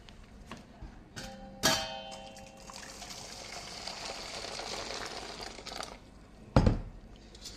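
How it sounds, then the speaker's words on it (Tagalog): Hot water poured into a freezer to defrost it, a steady trickling pour with a few sharp knocks and clatters near the start and end. "Mainit na tubig para mabilis siya ma-defrost."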